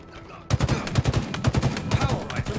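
A battle rifle in Halo Infinite fires in rapid, evenly spaced bursts of three, loud and punchy, repeating steadily after a quiet start.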